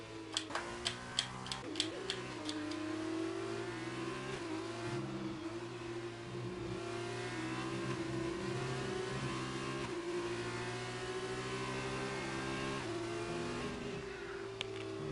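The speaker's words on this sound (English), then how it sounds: "Oh, the cars are just still going." F2 cars race at Belgium in a sim racing esports event, with overlapping engine notes rising and falling through gear changes, a few sharp ticking clicks early on, steady and fairly close with no voices.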